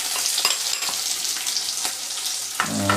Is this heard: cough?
no